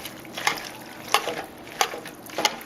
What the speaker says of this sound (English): And stir all that together